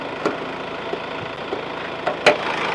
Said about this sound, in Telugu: ఇంజన్ కూడా చాలా సైలెంట్ ఉందండి